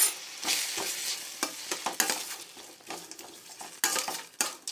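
Tomato and onion sautéing with turmeric in a pan for onion chutney, a spatula stirring and scraping against the pan in quick irregular strokes over a soft sizzle, close and fairly loud with metallic clinks.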